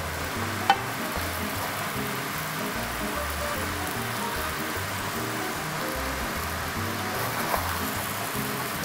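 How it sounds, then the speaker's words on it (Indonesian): Curry bubbles and sizzles steadily in a pot while water is added bit by bit. A low background rumble sits underneath, with a couple of soft utensil clinks. "Jadi air itu kita masukkan sedikit demi sedikit untuk merenehkan kari dan memastikan ya kari itu masak sepenuhnya."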